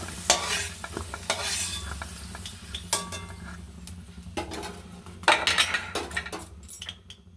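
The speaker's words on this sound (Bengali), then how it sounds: "ভালো করে লাল লাল করে ভেজে নেব" Potatoes for a Bengali potato curry fry in hot oil in a pan, a steady sizzle running throughout with repeated scraping and stirring strokes and occasional clinks of a utensil against the pot, close and fairly loud, with no talking.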